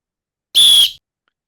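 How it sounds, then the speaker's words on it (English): A single sharp whistle blast for a warm-up is added as a sound effect, a short, shrill, loud tone lasting under half a second and surrounded by silence. "Right, Jugsy, time to blow the whistle for the warm-up"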